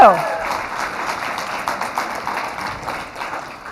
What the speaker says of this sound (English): huge round of applause to the class of 22